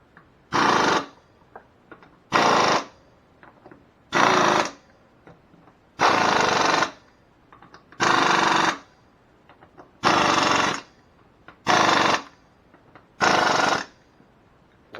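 A power tool torquing nuts on a 1998 Arctic Cat ATV, eight loud bursts of rattling impact roughly every two seconds, with quiet clicks and handling noises in the gaps.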